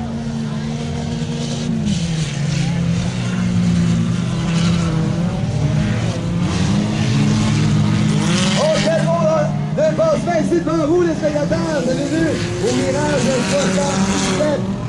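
Four-cylinder stock cars race past spectators at a St-Ferdinand event, their engines roaring continuously and loudly with rising and falling whines as they pass, under an excited commentator's voice.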